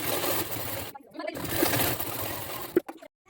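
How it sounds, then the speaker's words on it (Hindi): A sewing machine runs a straight stitch along folded cloth for a blouse sleeve, whirring steadily, pausing briefly, resuming, then stopping with a couple of clicks, close and clear. "तो मैं फटाफट से स्टिच कर लेता हूँ।"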